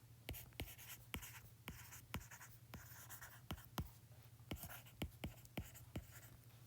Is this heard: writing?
yes